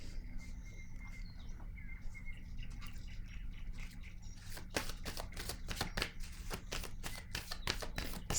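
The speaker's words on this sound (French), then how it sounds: "Je vais piger une autre carte." A deck of cards being shuffled and a card drawn, quiet rustling at first, then a quick run of crisp riffling clicks close by, with no talking.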